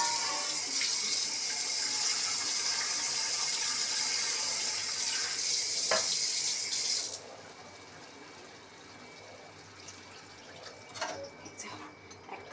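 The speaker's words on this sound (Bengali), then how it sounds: "একদম জল দিয়ে দিলাম" Water is poured into a tangra fish curry with eggplant and potato, a steady, loud gushing stream that runs for about seven seconds and then stops, leaving quieter kitchen sounds with a few small knocks.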